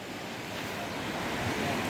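Steady, broad rushing of flooded river water at a weir fills the scene, a dense continuous roar with no pauses, fairly close and unchanging throughout.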